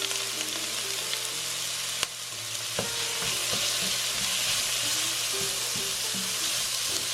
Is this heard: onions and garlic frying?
yes